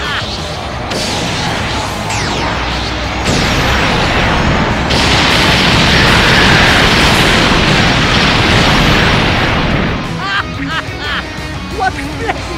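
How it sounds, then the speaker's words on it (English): Fireworks explosion effects from the Dragon Ball Legends video game burst loudly in a dense, continuous barrage of crashing booms and crackles, with game sound effects and energetic voices mixed in. "What blessed fireworks!"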